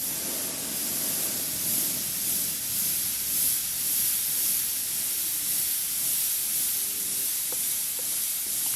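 H&S Ultra paint spray gun with the 04 needle and nozzle set and large cup, spraying a test in a continuous steady hiss of air and atomised paint, close and even throughout.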